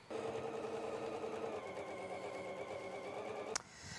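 A sewing machine runs steadily, stitching a quilted two-slice toaster cover made from a quilt-as-you-go kit, with a continuous close mechanical whir that stops abruptly with a sharp click near the end.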